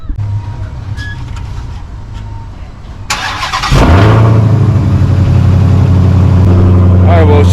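A 2019 Dodge Challenger Hellcat engine cranks and fires up around the midpoint with a loud roar, then settles into a deep, steady, rumbling idle close by after a quieter stretch of background noise.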